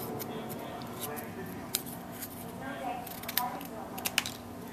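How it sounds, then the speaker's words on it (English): Scissors snip through card stock in a few short, crisp cuts scattered over a steady low background hum, close and fairly quiet. "So I'm going to cut this away."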